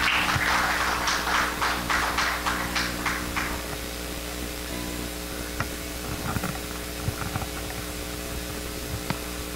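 A church congregation applauds at a Sunday service as Pastor Matthew comes up to lead a graduation presentation, a dense burst of clapping that fades out after about four seconds, leaving a quiet room with scattered small knocks.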